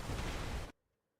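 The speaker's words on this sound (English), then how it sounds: "There's the mortar." A mortar explosion in Diablo IV, a short loud broadband burst of noise lasting under a second that cuts off abruptly into near silence.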